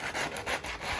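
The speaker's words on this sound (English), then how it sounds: "Let's sand the radiator. With the sandpaper, you just do a light key." Sandpaper scrubbing over a kitchen radiator for a light key, a steady back-and-forth rasp in several short strokes, close and fairly loud with no talking.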